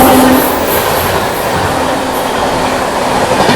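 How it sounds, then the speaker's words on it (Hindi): A Barauni–New Delhi clone special express overtakes at Etawah Junction, a loud, close, continuous roar of rolling coaches with faint wheel squeal at the start and no talk. "Barauni new Delhi clone special train जो है वो ओवरटेक करके चली गई"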